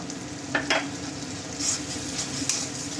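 A watery ground cumin and mustard paste goes into spices frying in oil for a bhola fish curry. A soft, steady sizzle is broken by a few sharp spoon scrapes and clinks against the pan.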